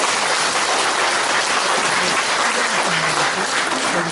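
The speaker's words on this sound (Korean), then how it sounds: "박수 한번 부탁드립니다." A congregation at a new year thanksgiving worship service claps in a dense, hissing wash of sound, loud and continuous, with faint tones drifting underneath.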